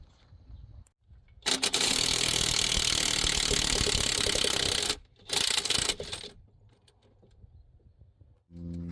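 A loud buzzing, rattling power tool works on the front engine assembly of a GMC Sierra 2500HD pickup, in one long burst of several seconds and then a shorter one, with quieter clinks between.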